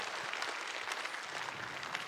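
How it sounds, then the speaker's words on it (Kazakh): An audience at a Kazakh concert evening claps in a brief, steady burst of applause, moderately distant and without voices. "Туғол, шапалақ."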